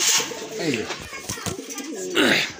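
Domestic and imported pigeons kept for sale coo close by, with several throaty, rolling coos repeating through the clip.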